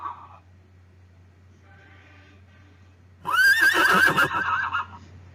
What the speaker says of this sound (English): the sound of a horse is called neigh